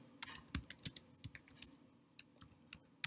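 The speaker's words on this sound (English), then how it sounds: "I can type." Someone types on a computer keyboard nearby: quick irregular bursts of sharp key clicks with brief pauses, with no voices.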